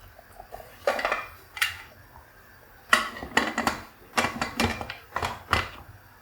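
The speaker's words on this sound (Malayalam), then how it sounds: "ഒരല്പം കറിവേപ്പിലയും കൂടെ ചേർത്ത് നമുക്ക് കുക്കർ അടയ്ക്കാം" Metal clanks and clatters of a pressure cooker lid being set and closed over chickpea curry with curry leaves in a home kitchen, several sharp bursts of pot-and-lid knocks, close and moderately loud.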